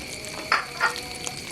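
Salted sepat fish fries in a pan, a close steady sizzle with two brief louder spatters in quick succession.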